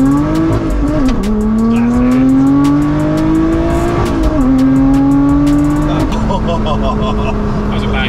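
A supercharged Lotus Exige engine roars loudly and close from inside the car, its pitch climbing steadily through gears with a few abrupt shift dips, one rough change, and people talking over it.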